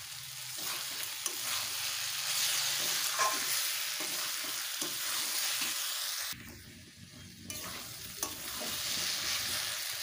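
Slit green chillies tossed into bottle gourd frying in a pan for lau ghonto, giving a continuous close sizzle with stirring scrapes and a brief dip in the middle.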